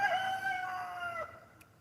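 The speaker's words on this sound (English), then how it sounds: "That's my rooster." A rooster crows once at close range, a single loud drawn-out cry that tails off after about a second, with no talk.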